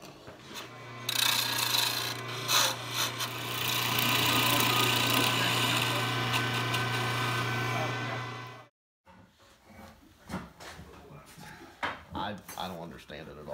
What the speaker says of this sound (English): we're gonna ream the legs into the bottom of the seat and ream the arm stumps into the top of the seat